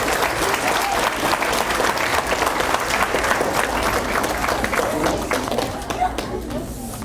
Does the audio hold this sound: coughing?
no